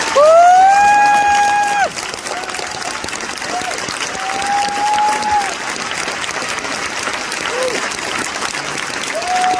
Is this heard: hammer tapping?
no